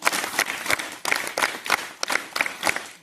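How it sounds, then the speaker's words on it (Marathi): Three distinct rounds of group clapping from students and staff welcoming a guest at a Marathi-medium school event, each burst of sharp claps separated by brief pauses in a regular, rhythmic pattern, close and fairly loud. "मी त्यांचं सर्वप्रथम 3 टाळ्या देऊन स्वागत आपण त्यांचं करणार आहोत"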